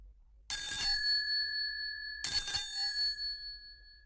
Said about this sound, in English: Then suddenly she ran across the road and rang Holmes's doorbell